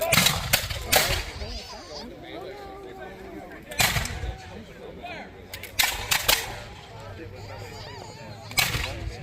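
Musket gunfire at a colonial reenactment encampment: several sharp, loud reports ring out at irregular intervals, some close together, with people talking in the background between shots.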